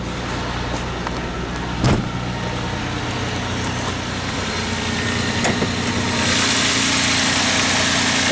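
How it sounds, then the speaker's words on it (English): The original V6 24-valve engine of a 1995 Nissan Maxima idles steadily with the hood open, a low, even hum with a couple of brief clicks and a slight rise in tone toward the end. "V6 24 valve Nissan motor, original motor"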